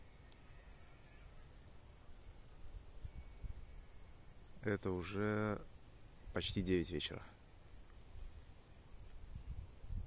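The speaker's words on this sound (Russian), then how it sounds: "И только слышно, как стрекочут разные кузнечики." Grasshoppers chirp steadily on a very warm August evening in Belarus near power lines, a faint continuous high buzz carried throughout, with someone talking briefly midway over it.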